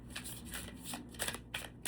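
Tarot cards are shuffled by hand in a quiet room, a series of soft riffling bursts and snaps, faint and close.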